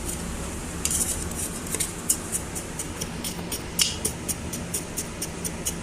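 A spoon scoops and clinks against a container while palladium is being refined chemically. The clinks are sharp and repeat in a fairly steady rhythm, close to the listener, with no talk.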